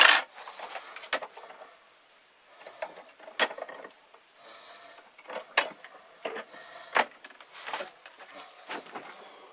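Wooden trap stick for a French bird trap being cut in half, a series of sharp close clicks and snaps at irregular intervals with quiet gaps between, no talk.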